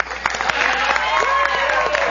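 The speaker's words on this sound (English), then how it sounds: "Round of applause for Fu" A television studio audience applauds for a few seconds, a short crowd of clapping with a voice or tones running faintly underneath.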